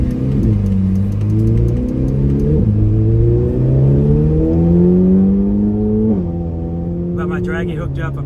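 A Corvette C8 Z06 fitted with an aftermarket 91mm throttle body pulls hard from 60 to 130 mph, its engine note climbing loudly and steadily, with clear drops and restarts at each upshift.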